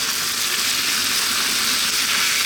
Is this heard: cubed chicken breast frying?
yes